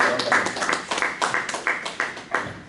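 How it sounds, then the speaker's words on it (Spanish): Audience applause for forum guests at a talk on Guinean women in Spanish documentary film, a thin, uneven patter of hand claps from a small group, with louder bursts rising and fading over a few seconds. "les pido un fuerte aplauso como agradecimiento por su presencia"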